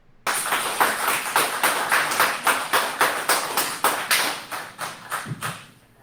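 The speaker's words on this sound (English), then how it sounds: "Everybody give a little clap for the new attorney" A small group claps for a newly appointed village attorney at a municipal meeting, about a dozen loud, evenly spaced claps in a steady rhythm that slows and fades at the end.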